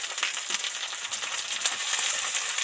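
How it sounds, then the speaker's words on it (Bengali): Tomato and coriander leaves deep-frying in leftover fish-frying oil, a steady close bright sizzle with crackling spits running throughout, no voices. "টমেটো ধনে পাতা দিয়ে দু চার মিনিট ভালো করে ডিপ ফ্রাই করে ভেজে নেব"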